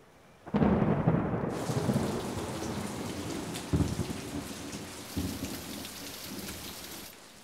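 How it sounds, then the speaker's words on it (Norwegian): Heavy rain pours down steadily with gusty roaring and low rumbles surging now and then, no voices. "Her er et forferdelig regn og en skrekkelig vind."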